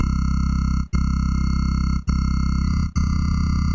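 A buzzy synth tone with hard crunch transient distortion on its partials drones continuously, with a crunchy gritty, quantized-sounding edge and three brief dropouts breaking the sustained sound.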